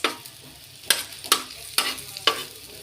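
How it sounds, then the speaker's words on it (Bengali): Onions frying in a pan for spicy potato bhorta, a low sizzle broken by four or five sharp, close stirring scrapes at roughly half-second to second intervals. "দেখেন সুন্দর করে ভেজে নিচ্ছি পেঁয়াজগুলো"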